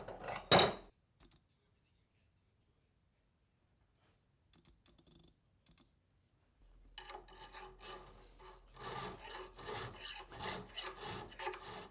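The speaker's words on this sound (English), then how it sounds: "you basically file until the file stops cutting because it hits the guide" A metal file rasps in a run of quick rhythmic strokes across the steel sole mouth of a canary wood miter plane, working against a carbide guide, after a sharp clank and a long near-silent pause.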